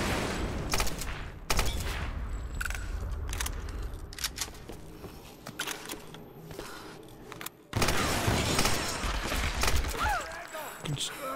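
Gunfire in the video game Tomb Raider 2013, a string of sharp shots and bursts at varying distances through a combat scene, with a pause and then a loud renewed stretch of firing near the end, under occasional talk.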